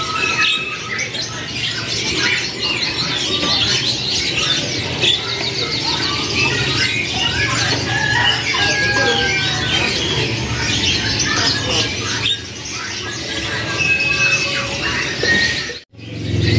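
Many canaries chirping and squawking together at a bird kiosk, a busy continuous chorus of close, loud calls with faint background chatter.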